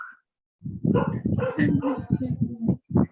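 A dog barks and yips repeatedly at close range, with short whimpering sounds mixed in between the barks.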